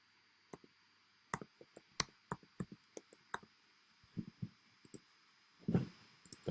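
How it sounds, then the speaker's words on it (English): Login credentials are typed on a computer keyboard, producing irregular, close key clicks in quick bursts with short pauses, ending in a slightly heavier flurry of keystrokes. "So I type in my credentials"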